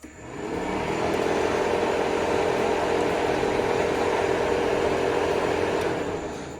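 The auxiliary cooling fan on a C4 Corvette switches on and runs as a steady, broadband whooshing roar, rising quickly at the start and holding constant until it tapers off at the end.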